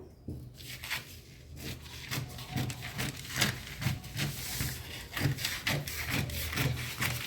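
Scissors cut fabric for a children's dress with repeated close snips and a rough scraping rhythm, steady and fairly quiet, with no speech.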